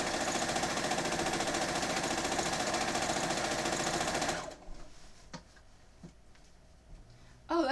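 A sewing machine stitches a long glow-in-the-dark Ghostbusters quilt, running in a fast, steady whir for about four seconds before stopping, followed by faint clicks and handling noises in a quiet room.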